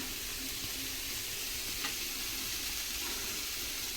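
Masala with broad beans and salt sautéing in a pan for an egg poriyal, a constant close hissing sizzle with a faint stir, even and unbroken, no talking.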